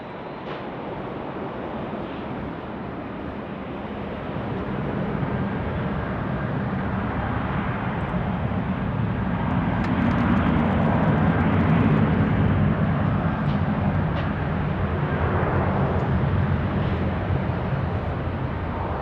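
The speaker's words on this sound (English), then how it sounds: "clear for takeoff, Jetstar 766" A Jetstar airliner taking off at night at Sydney Airport produces a broad, steady roar that swells gradually over about nineteen seconds, heard from a distance with wind noise on the microphone.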